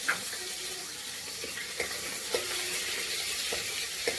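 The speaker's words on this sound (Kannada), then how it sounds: "ಚೆನ್ನಾಗಿ ಫ್ರೈ ಮಾಡ್ಕೊಬೇಕು." Chopped onion frying in a tempering of mustard seeds, cumin, curry leaves and dried red chilli, a steady close sizzle and hiss with a few soft stirring scrapes and clicks.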